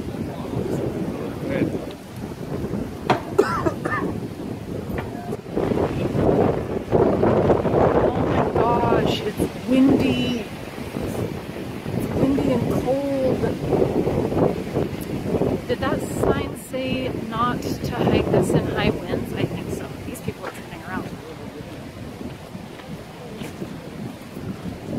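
Strong wind buffets the microphone on a mountain hiking trail at Angels Landing in Zion National Park, a steady roaring rush throughout with people talking over it.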